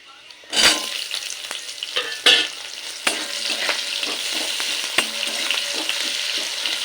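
Chopped onion frying in hot oil with panch phoron and a dried red chilli, a steady close sizzle broken by several sharp clatters of stirring against the pan.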